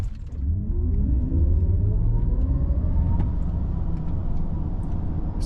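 An electric Mercedes-Maybach EQS SUV launches from a standstill, a steadily rising motor whine climbing in pitch over road and tyre rumble, close and continuous.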